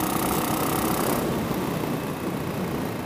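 A Suzuki LS 650 Bobber motorcycle's engine runs with a steady, loud, rough rumble close by, laid over heavy wind-like noise, with no talking.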